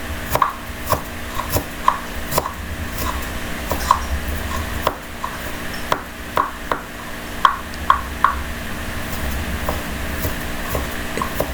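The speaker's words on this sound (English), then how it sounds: "now I'm chopping a piece of ginger" A knife chops a small piece of ginger into fine pieces on a board: a faint, irregular series of sharp taps scattered over a quiet kitchen background.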